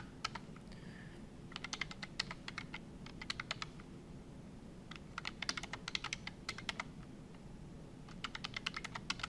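Quiet bursts of rapid keyboard typing, clicking keys in short clusters separated by brief pauses, no voices.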